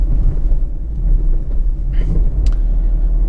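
A steady low engine rumble fills the cabin of a 2015 Citroën C3 1.6 HDi 75 diesel, with faint road noise and a couple of brief higher ticks.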